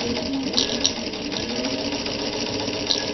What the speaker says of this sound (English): Long stitch length when you're sewing heavy fabric.